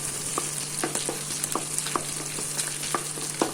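Garlic and onions frying in a pan, a steady close sizzle with a series of sharp utensil scrapes and taps as they are stirred, and no talk.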